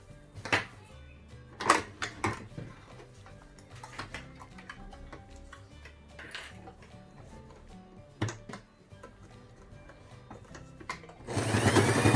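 A sewing machine stitches a seam along the side of a quilted fabric mat for a small teacher's case or toiletry bag, running in short clattering bursts and pauses, then breaking into a louder, steady run at the end.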